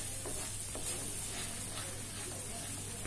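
Ground pepper and seasoning sautéing in a pan while making chicken noodles, a steady close sizzle and hiss of frying with faint stirring, continuous throughout without talk.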